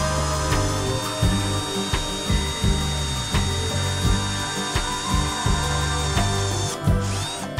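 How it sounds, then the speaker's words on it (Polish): Power drill boring a hole in wood outdoors while mounting a stork nest platform on a tree trunk, a steady near mechanical whir with rhythmic ratcheting pulses and no talk. "Wiertam otwór"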